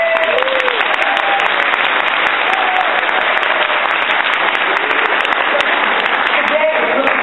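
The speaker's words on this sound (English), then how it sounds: "let's give them a round of applause." An audience at a members' meeting claps steadily for visiting guests, a sustained dense round of applause filling the room throughout.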